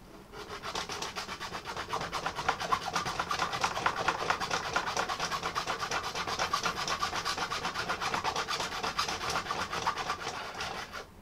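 A hand file rasps steadily across a PVC bow, cutting a notch with quick, even back-and-forth strokes that continue close and loud without pause.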